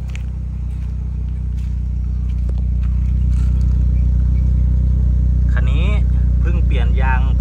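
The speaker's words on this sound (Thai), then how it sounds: "เสียงเครื่องเงียบๆนิ่งๆนะครับ" A 2011 Proton Persona car engine idles steadily and quietly, a low continuous hum up close, with someone talking over it in the latter half.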